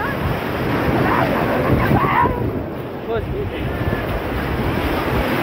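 Sea waves at Marina Beach in Chennai, a steady broadband wash of surf with heavy wind buffeting the microphone, while someone talks briefly over it.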